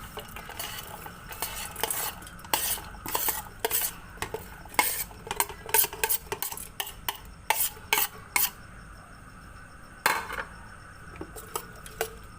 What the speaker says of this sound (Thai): คนให้เข้ากันนะครับ